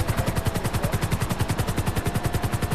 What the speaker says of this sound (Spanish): ahora sale un puto helicóptero